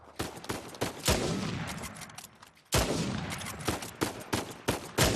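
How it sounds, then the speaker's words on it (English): Sniper rifle fire in the video game Uncharted 4: loud, sharp single shots ring out with long echoing tails, interleaved with quicker bursts of gunfire close by. "You don't have to use the sniper rifle if you don't want to, obviously, but I'm going to, just because it's here."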